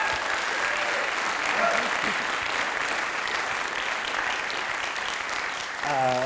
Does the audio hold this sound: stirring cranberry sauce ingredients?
no